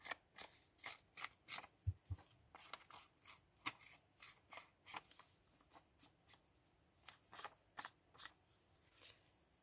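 Paper being cut with pinking shears for an envelope decoration, a series of short, close, crisp snips in an uneven rhythm, with no voices.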